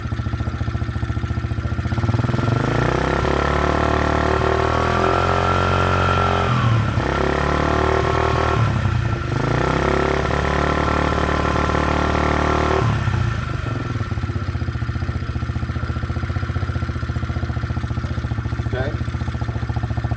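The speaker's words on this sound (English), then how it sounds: "I'm going to rev it up, and you can see how gradual it takes off now." A 2021 Apollo DB 25 70cc four-stroke automatic kids dirt bike idles close by, then revs up steadily with rising engine pitch and drops back to a loud, clattering idle.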